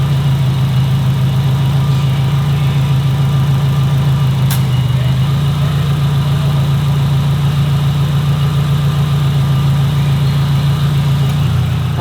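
Subaru engine idling through a heat cycle while a head gasket fault is checked, a loud, even, constant hum with a steady low throb, close up and alone.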